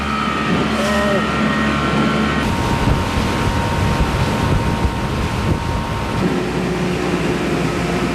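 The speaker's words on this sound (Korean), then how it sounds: "그런데 보트가 엄청 빠르네요. 파도가 막 제 엉덩이를 사정없이 때립니다." A fast speedboat pounding over waves on a roughly 50-minute crossing, with a steady loud engine drone, constant wind buffeting and water rush throughout.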